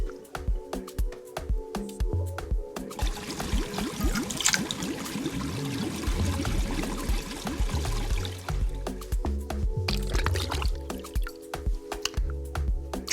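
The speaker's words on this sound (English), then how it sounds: "Pour the custard immediately into the fully baked pie shell." Butterscotch custard poured into a fully baked tart shell, giving a steady run of soft wet squishing drips and trickles throughout, close and moderately loud with no talking.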